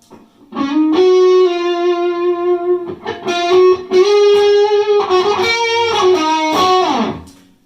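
Electric guitar played through a BOSS OS-2 overdrive/distortion pedal, with level and tone at noon and the color knob low, giving loud sustained distorted chords and riffs with brief pauses.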